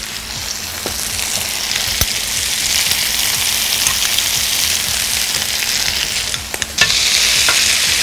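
Mushrooms frying in butter with garlic in a pan give a steady, close, loud sizzle with occasional stirring scrapes and clicks, and no voices.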